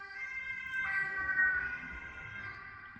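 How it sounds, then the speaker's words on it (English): Ambulance siren in the Netherlands passing outside, a steady two-tone wail rising in the middle and fading slightly at the end, heard from indoors at moderate distance. "And of course there has to be an ambulance."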